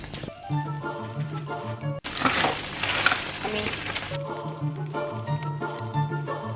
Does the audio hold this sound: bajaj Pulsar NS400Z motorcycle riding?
no